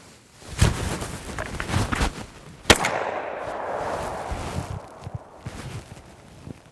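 Single loud sharp crack from a 10 gauge semi-automatic shotgun firing a 3.5 inch shell, amid scattered outdoor thumps and rustling, with no voices.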